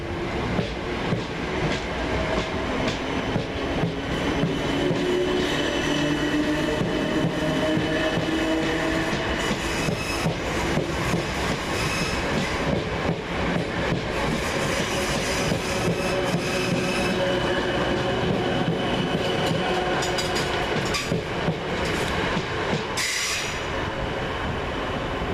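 Two South Western Railway Class 455 electric units, 455708 and 455741, pull out of Richmond station on a Kingston to London Waterloo service, a steady close rumble of wheels and rail with squealing and clattering over the whole stretch.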